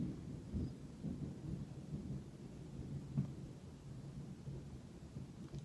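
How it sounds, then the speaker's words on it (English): Distant thunder rolls low and soft beneath faint rain, a continuous muffled rumble with slight swells and no voices present. "Y'all hear that thunder, right?"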